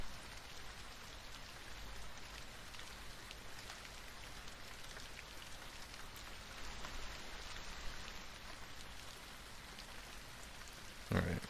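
Steady rain played back through a podcast stream, a soft continuous patter of drops hissing evenly at low volume throughout, with no one talking over it.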